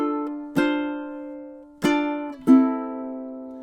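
Three plucked ukulele strums of a riff, each ringing out and decaying, played alone and clearly up close.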